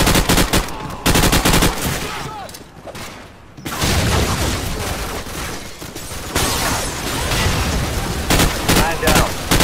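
Sustained automatic gunfire in Call of Duty 4: Modern Warfare, close and loud, with rapid bursts of rifle fire that pause briefly before the barrage resumes, and faint game voices underneath.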